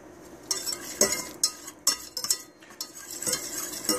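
A utensil stirs a flour-and-butter roux in a pan for béchamel sauce, making soft scraping swishes broken by a few sharp metallic clinks against the pan, close and quiet with no talk.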